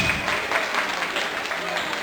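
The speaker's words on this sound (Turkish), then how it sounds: "Alkış." Wedding guests applaud right after the bride's vows, a continuous wash of clapping from a crowd, even and fairly close for two seconds.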